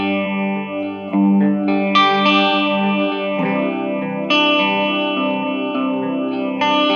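Electric guitar played through a phaser pedal with its speed knob turned up to about 75 to 80 percent, sustained chords with a warm, swirling sweep, loud and close with no voices.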